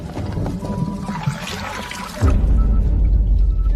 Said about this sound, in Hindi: जल्दी से घड़े लाकर पानी भरो।